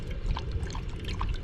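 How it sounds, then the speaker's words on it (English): Water trickles and pours steadily into a dog's water fountain, a close, continuous liquid splashing with small bright drips throughout. "They have like a doggy water fountain,"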